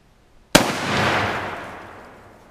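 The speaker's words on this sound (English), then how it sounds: "Yep, that was an explosion." A single sharp rifle shot from an 8mm Mauser or M44 Mosin Nagant carbine bursts a frozen water bottle target outdoors, a loud close crack followed by a long, broad decaying echo rolling away over two seconds.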